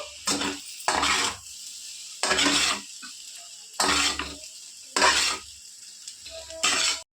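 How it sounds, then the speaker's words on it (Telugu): Rice fries on high heat for spicy street-style paneer fried rice, heard as about six loud bursts of sizzling and stirring, each followed by a short, quieter pause. "రెండు నిమిషాలు ఇట్లానే ఫ్రై చేసుకోండి రైస్ని హైలో పెట్టుకొని ఫ్రై చేసుకోండి"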